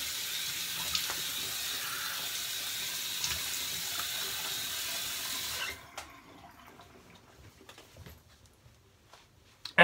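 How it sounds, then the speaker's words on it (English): Cold water runs steadily from a bathroom tap for rinsing a razor, a constant hissing stream that stops abruptly partway through, leaving a quiet room with faint small clinks. "Now I'm using a cold water rinse."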